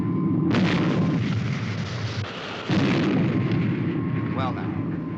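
A weapon fires in a TV show, a loud sustained explosive blast that booms on for several seconds and is followed by a second heavy burst, with a brief whistling tone near the end.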